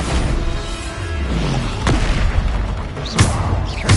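Bombarda spell explosions in Hogwarts Legacy, several loud booming blasts and thumps scattered through a dense, rumbling game soundscape, with no talking.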